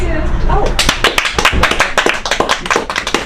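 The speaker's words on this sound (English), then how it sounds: "it's good that the married people clapped again" A comedy show audience claps in a brief round of applause, a dense patter of many hands rising after a moment and continuing steadily, with some talk at the start.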